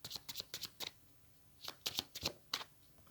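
Tarot cards are shuffled and drawn by hand in a quiet room, with two bursts of crisp riffling and flicking separated by a short pause, close and soft, with no voice.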